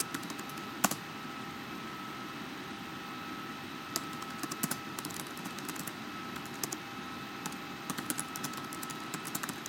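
Typing on a computer keyboard, a steady run of close, light key clicks with occasional sharper taps, heard alone over faint room noise.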